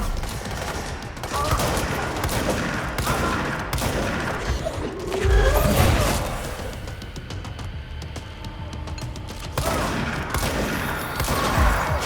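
Gunfire from a shotgun-wielding enemy in the video game Control, heavy repeated blasts mixed with other combat noise across a dense, loud battle, with one prominent booming hit midway; some voice under the action.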